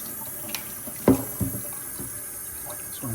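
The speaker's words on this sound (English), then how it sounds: "just fill up with water if you can." Tap water runs and splashes into a wallpaper steamer's tank, a steady background flow broken by a few sharper gurgles and knocks, with no talking.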